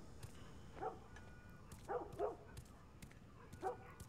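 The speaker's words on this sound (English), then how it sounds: "Dogs going a bit nutso outside." A dog barks and yips outside in a zombie-outbreak video game, short sharp bursts coming in ones and pairs at irregular intervals, fairly distant and faint over a low ambient rumble.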